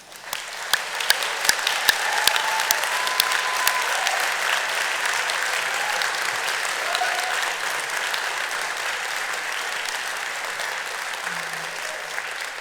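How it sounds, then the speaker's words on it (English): A graduation audience at Deakin University breaks into long, full applause that builds quickly and holds steady, a thick field of clapping with scattered sharp claps and faint cheers. "thank them with a mighty hurrah and a round of applause"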